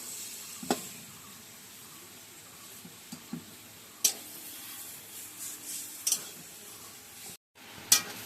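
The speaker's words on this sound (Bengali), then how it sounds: "এবার ভালো করে এটাকে নেড়ে দেবো যাতে চিনিটা মিশে যায়" Taro leaves mixed with sugar are stirred in a pan with a low, soft background hiss, broken by scattered scraping clinks of the utensil against the pan at irregular intervals.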